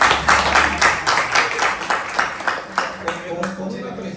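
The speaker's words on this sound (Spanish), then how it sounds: "Un aplauso para César." An audience at a comics talk gives a round of applause for the speaker César, moderately close and steady, with individual claps audible and a voice talking over the clapping.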